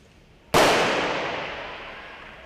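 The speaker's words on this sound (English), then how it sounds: "Gunshot gets them underway." A single sharp starting gun crack opens a masters track cycling scratch race, followed by a long, slowly fading echo through the velodrome.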